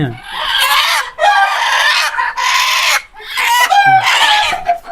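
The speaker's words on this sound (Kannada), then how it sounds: "ಕೋಳಿ ಇದ್ರಾಗ ದೊಡ್ಡ ದೊಡ್ಡ ಕೋಳಿ ಇರ್ತಾವ್ರಿ" Chickens on a mixed farm cluck and squawk in loud, busy bursts, several birds calling over one another in near-continuous clusters with short gaps between.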